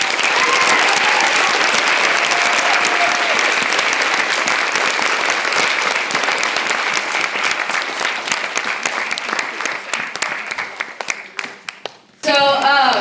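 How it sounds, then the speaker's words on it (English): Enthusiastic applause from a school drama audience at a Christmas pageant, dense clapping that thins into scattered claps over several seconds before voices take over at the end. "Everybody give Mr. Tippett a big round of applause."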